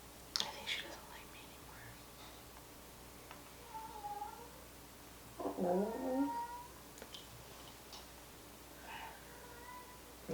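A cat meows and caterwauls in a quiet room, with several drawn-out cries of moderate loudness, one louder wail in the middle, and soft whispered talk around them.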